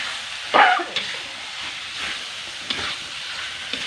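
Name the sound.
shredded chicken meat frying and being stirred in pan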